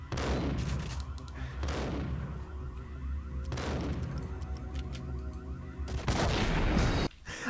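Gunfire in the video game Max Payne: several sharp, heavy shots with long echoing reflections, spaced a second or two apart, with a louder burst near the end.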